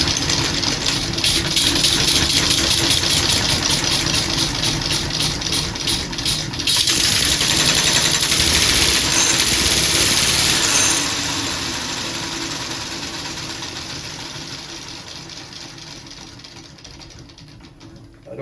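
A small air-powered engine with a flywheel runs slowly on test, a steady rapid mechanical chatter with a hiss of compressed air that grows louder midway, then eases and drops in level before stopping.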